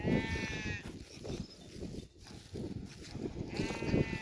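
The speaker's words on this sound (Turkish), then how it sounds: "Küçük kuzu." Lamb bleats ring out at the start and again near the end, high and wavering, over a busy outdoor pasture background of sheep shuffling and muddy footsteps.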